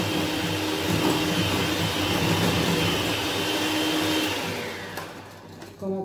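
An electric hand mixer whirs steadily, beating a sauce mixture for English sauce until it turns white, a constant close buzz that drops away near the end as it is switched off.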